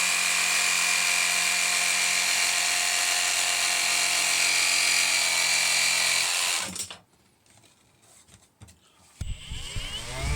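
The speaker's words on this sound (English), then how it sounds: "Material is easy enough to cut with a jigsaw with the proper blade on it." A jigsaw fitted with a fine-toothed metal cutting blade saws through material during boat work, a loud steady buzzing drone for several seconds that stops abruptly, leaving quiet handling clatter before another brief burst.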